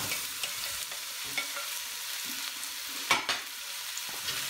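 Five onions fry in warmed olive oil, a soft, steady hiss of sizzling with a few faint clicks and one brief clatter, close and calm, with no voices.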